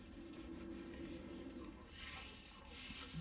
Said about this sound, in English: I'm going to press this into the spine so it's glued in there